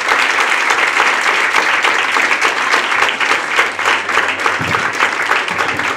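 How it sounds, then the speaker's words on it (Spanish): Wedding guests inside a church break into loud, sustained applause, a dense wash of many hands clapping close by for the full stretch. "Le damos palmas, fuertes aplausos a él."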